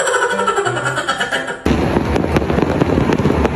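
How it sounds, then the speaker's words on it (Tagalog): New Year's fireworks set off from a rooftop, a sudden loud dense burst of crackling and popping that fills the second half after a quieter stretch of distant festive noise. "dali-dali nga akong umakyat sa may rooftop dahil abangan ko yung mga nabili kong fireworks"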